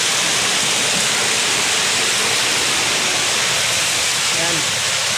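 Strong rushing water at a stream in a rainy spot roars as a loud, unbroken wash of noise close by, with a voice faintly present beneath it.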